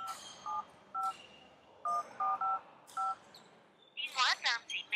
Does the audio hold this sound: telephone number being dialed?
yes